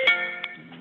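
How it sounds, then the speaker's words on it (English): A phone ringtone chimes briefly during a committee conference call, a clear tonal electronic ring with a couple of bright note onsets, no talk over it. "That's my phone."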